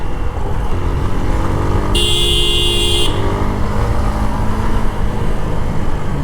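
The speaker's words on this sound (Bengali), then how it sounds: "অনেকদিন পরে বাইকটা অনেক স্মুথ লাগতেছে চালায় আর কি" A motorcycle ridden through city traffic near BRTA Uttara in Dhaka, its steady engine and road rumble continuing throughout, with a short burst of a nearby vehicle horn partway through.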